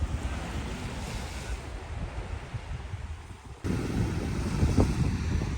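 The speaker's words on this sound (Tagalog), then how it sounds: "Medyo nag-high tide na siya." Sea waves washing ashore at high tide in the late afternoon make a steady, broad roar, with wind buffeting the microphone. The surf grows louder and closer partway through.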